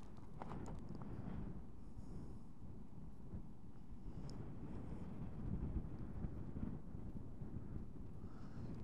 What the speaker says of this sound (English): I wasn't expecting it to be this blowy.